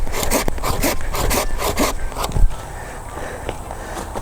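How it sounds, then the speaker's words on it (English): A hand saw cutting through a tree branch during garden pruning, with about a dozen quick rasping back-and-forth strokes up close that stop partway through, leaving quieter rustling. "So I cut here, and then I will cut a little bit higher up on the top side."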